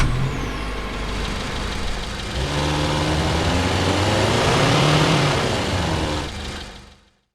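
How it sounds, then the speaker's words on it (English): A Subaru engine startup blends into Honda Civic engine revs in a Krotos Igniter car sound design, loud and close, the motor rising in pitch and intensity before cutting off abruptly into silence. "using a Subaru engine startup, blending into the Honda Civic engine sounds as the revs increase"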